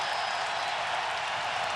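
Arena crowd at a UConn versus North Carolina men's college basketball game, a dense, loud, unbroken roar of cheering and applause filling the whole moment.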